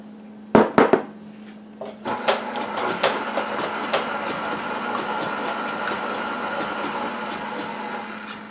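Eggs being beaten into cream cheese brownie batter in a bowl: a few sharp clinks and knocks at the start, then a continuous close rhythmic whisking and clattering against the bowl, with no talking.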